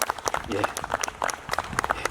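A church congregation applauds at an outdoor anniversary worship service, a steady patter of many hands clapping throughout with speech-like sounds mixed in.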